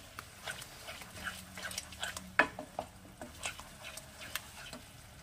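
Sour yogurt being stirred continuously into a pan for Bengali-style shahi aloo dum, a run of soft scrapes and clinks of a spoon against the metal pot, faint and close, with no talk.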